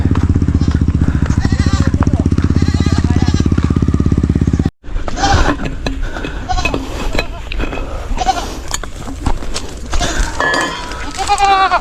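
Goats bleat intermittently amid a busy outdoor farm din, with a loader engine droning loudly at first, then a cut to scattered bleats, clinks and distant voices.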